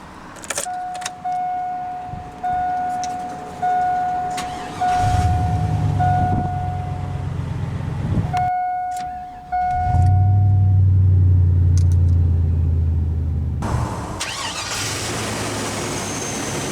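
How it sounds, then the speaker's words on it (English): A 2002 Chevrolet Silverado 1500 LS Extended Cab with the 5.3L V8 and 2WD: a door chime beeps, keys jingle, then the starter cranks and the engine catches into a loud, rumbling idle, all close by. "let's go ahead and start the engine"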